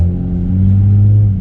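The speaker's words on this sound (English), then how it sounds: "So just when I gave it gas, it started to actually move" Toyota A90 Supra fitted with a Pedal Commander pulling away: a deep, steady engine drone that swells slightly as it accelerates, heard from inside the car, loud and close with no talking.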